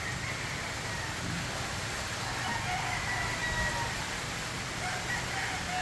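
Chickens, including tethered birds, with a rooster crowing somewhere in the distance amid a steady hiss like rain, the crow faint and partly buried in the broad background noise.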